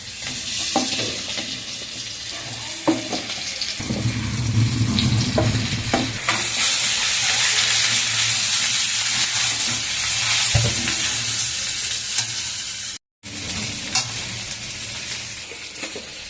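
Vegetables dropped into a ginger and green chilli tempering and stirred, with a loud continuous sizzle and scraping stirs, the frying growing brighter and hissier partway through, with a brief silent gap near the end.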